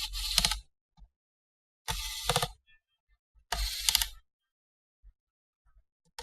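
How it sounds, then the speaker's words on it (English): Screws being undone from the bottom RAM cover of a Toshiba L645D laptop: three separate bursts of quiet, close ratcheting clicks, about two seconds apart, with silence between them. "you want to remove the RAM cover, which is at the bottom, by removing 3 screws"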